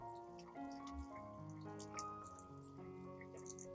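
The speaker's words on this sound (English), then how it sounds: "I will rinse the entire plant with clean water." Clean water poured over orchid roots, a soft steady trickle with drips, faint and close, no voices.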